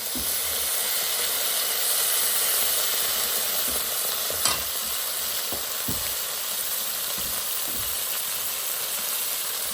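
Carp sizzles and bubbles in a pan after spring water is added to reduce the sauce, producing a constant close hiss of steam broken by a few soft knocks and one sharp clink.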